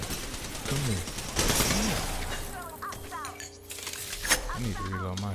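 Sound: gunfire in the video game Apex Legends

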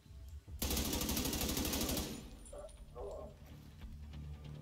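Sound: gunfire in video game The Division 2

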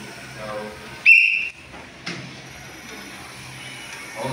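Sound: coach's whistle blown during volleyball class

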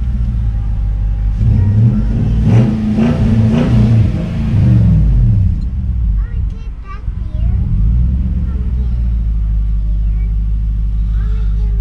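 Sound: car engine revving through cheap Amazon exhaust

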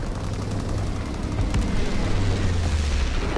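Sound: incendiary bombing run explosions in Call of Duty WWII video game

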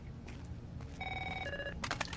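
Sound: phone ringing in video game Rainbow Six Vegas 2

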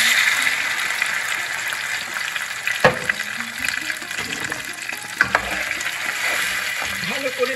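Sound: stirring raisins, cashews and yogurt masala in frying pan

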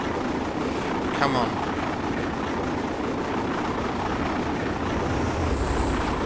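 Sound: LNER A2 steam locomotive running hard under deep throttle

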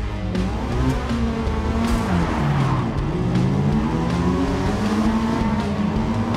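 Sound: rotary engine of a Mazda RX-7 racing in the video game Forza Motorsport

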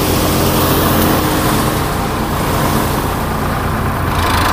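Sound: Reinforce thresher threshing mustard, run by Sonalika 745 tractor

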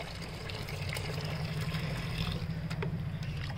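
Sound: pouring black tea water into plant pots

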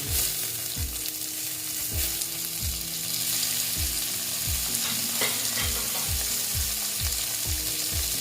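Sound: sautéing chopped tomato with meat in pan

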